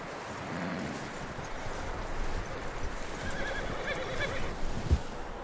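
A horse whinnies in the video game Red Dead Redemption II, amid shuffling hooves and a low background rumble, followed by a brief thump.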